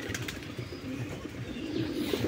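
Several kinds of doves kept alongside pigeons, soft low cooing calls repeating in a loose rhythm, faint and a little distant, with light rustling and a couple of brief higher sounds, no speech.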